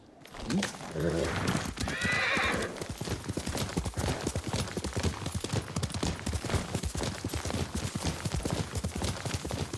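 A horse whinnies loudly near the start in Ghost of Tsushima, then hooves clop in a steady rapid rhythm while a voice speaks briefly over them.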